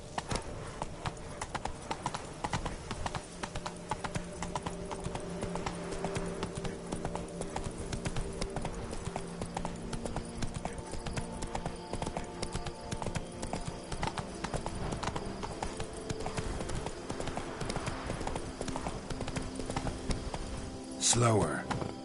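Roach, the horse in The Witcher, trots with rapid, continuous hoof clip-clops throughout, loud and near, layered with game sound and someone speaking now and then.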